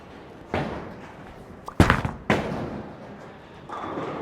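A Storm Phaze V symmetrical pearl bowling ball rolls down the lane and strikes the pins with a sharp crash, followed by a second clattering burst of pins falling, then a fading rumble.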